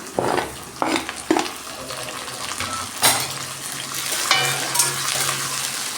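Sliced onions stir-fried in a pan until browned, a continuous hiss of frying broken by several sharp scraping stirs early on, close and fairly loud.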